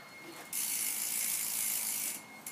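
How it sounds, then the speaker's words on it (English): A fast, continuous buzzing ratchet clicking from the freewheel rear hub of a Mongoose 540 bike, loud and close, lasting about two seconds. "It's pretty loud, I believe. Sounds like this."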